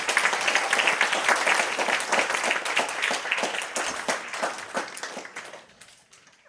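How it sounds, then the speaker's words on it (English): Audience applauding the musicians at a classical Indian dance debut recital, a dense, close burst of clapping that holds steady, then thins and fades out toward the end. "Please give a round of applause for the talented musicians here today."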